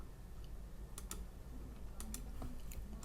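Typing on a computer keyboard while entering a value into a spreadsheet: a few quiet, scattered key clicks in small bursts, close and soft, with no talking.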